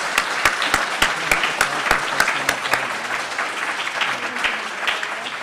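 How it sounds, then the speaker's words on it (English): Audience at a community recognition event giving a round of applause, steady close crowd clapping with distinct sharp individual claps, gradually thinning toward the end. "Can we have another round of applause?"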